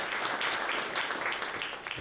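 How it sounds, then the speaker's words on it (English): Audience at a lightning talks event breaking into a round of applause, dense steady clapping from a crowd indoors, fading slightly at the end. "a round of applause for Majken."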